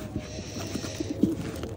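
Pigeons coo softly in short, low burbling calls against a busy background.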